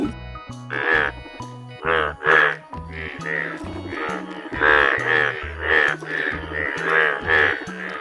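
Frogs croak loudly and rhythmically in quick repeated bursts, close by and dominating the scene, with a voice chanting a Bengali alphabet rhyme along.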